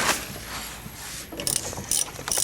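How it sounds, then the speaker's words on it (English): A hand ratchet tightens the front brake caliper bolts on a 2013 Dodge Dart, first with a smooth turning sweep, then with three quick bursts of sharp metallic clicking, close and loud. "I'm gonna attach them with the regular ratchet first"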